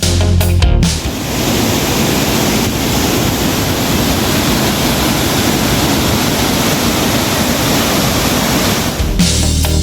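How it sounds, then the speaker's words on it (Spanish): The Ala de Ángel waterfall in Chiapas, a 30-metre cascade, roars as a constant, loud, broadband rush of falling water, heard close and alone with no voices. "La cascada Ala de Ángel, con 30 metros de altura."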